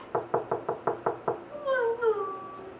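A run of seven evenly spaced, sharp knocks on a door, close and loud, followed by a drawn-out tonal voice-like call.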